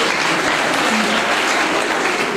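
Loud, dense applause from a church congregation at a pastor's 35th ministry anniversary, steady and unbroken throughout, with no voices standing out.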